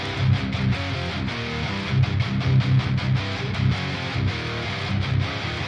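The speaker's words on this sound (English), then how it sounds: "So this is the sound of a rhythm guitar." Overdriven rhythm guitar without the plugin, a dense, steady chugging riff with palm-muted rhythmic accents, loud and continuous throughout with no voices.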